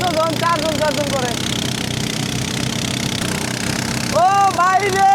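A motorboat engine drones steadily on the Sangu river in Bandarban, on the way to Remakri, a low rough rumble running the whole time beneath voices talking loudly close by.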